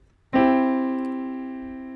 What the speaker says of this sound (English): that's the most famous chord in the world